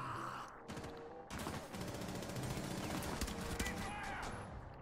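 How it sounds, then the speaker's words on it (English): Repeated pistol shots in a first-person shooter video game, dense and continuous, layered with other game noise and mixed under players' talk. "Oh, Chris, I shot you."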